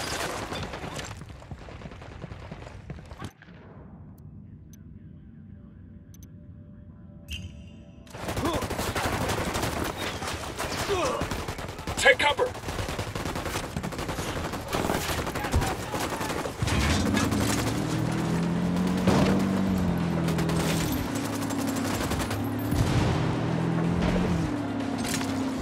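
Gunfire in the video game Ghost Recon Wildlands, rapid automatic bursts and scattered shots building into sustained heavy firing, with a vehicle engine droning underneath and brief voices in the mix.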